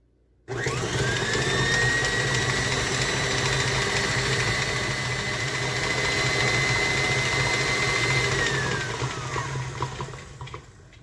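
An electric mixer beating red velvet cake batter, a steady loud whirring drone that switches on abruptly, runs evenly for about ten seconds and then winds down, with no talk.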